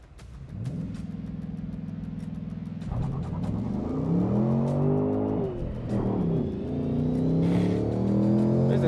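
A 2024 Ford Mustang GT or 2023 Nissan Z launches in a drag race with a full wheelspin burnout. The engine drones at steady high revs, then surges and wavers as it climbs through the revs, loud and close, with no talking.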